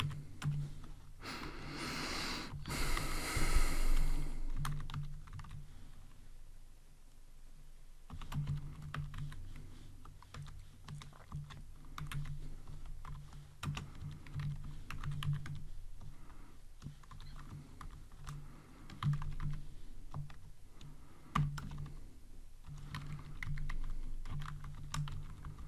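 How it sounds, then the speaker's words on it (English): Steady typing on a computer keyboard while an SQL insert statement is entered, with continuous rapid key taps over a low background hum and a brief louder rustle near the start. "Now I'm going to type another insert into"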